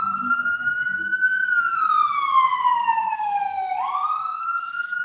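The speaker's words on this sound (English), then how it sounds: "looks like there's a police car coming after me." A police car siren wails fairly close by in a long, continuous tone that slowly glides up and down over a faint road rumble.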